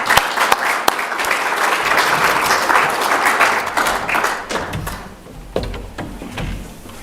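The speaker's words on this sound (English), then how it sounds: "Let's give them a round of applause as they come forward." An audience at a Rotary Club meeting in Vermillion, South Dakota applauds for several seconds. The steady clapping fills the room, then thins out into scattered claps and a few knocks.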